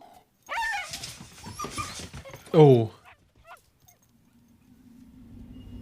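A frightened dog whimpers in a scene from The Sixth Sense, a short, high, wavering whine that rises briefly amid quiet film dialogue and a voice.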